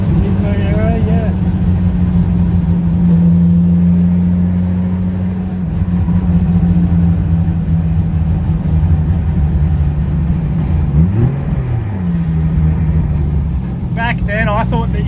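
Nissan S15 Silvia engine droning steadily on a race track at QLD Raceway, a loud continuous rumble with a brief rev change partway through, heard from inside the car with occasional talk over it.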